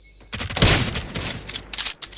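A quick burst of rapid gunfire in PUBG, several sharp cracking shots in a tight cluster followed by a few scattered reports, fairly close and loud, heard alone without talk.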